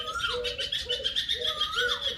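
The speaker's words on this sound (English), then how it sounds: "Lily, Mom, look, a little bird" A small bird near a tree repeats a short, bright chirping call several times in quick succession, close and clear against a quiet background.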